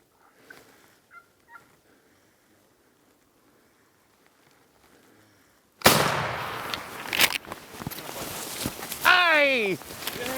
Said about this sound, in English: I'm going to shoot him.